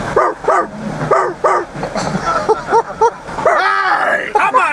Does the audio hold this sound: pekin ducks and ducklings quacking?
no